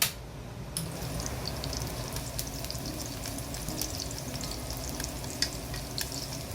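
Garlic and hot chili pepper frying in olive oil, a steady close crackling sizzle with scattered sharp pops that holds evenly throughout after a brief louder start.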